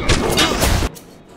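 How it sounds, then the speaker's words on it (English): Rapid gunfire crackles in a quick burst of loud, close shots during Bioshock play, then stops abruptly into a dull rumble. "stop firing at me"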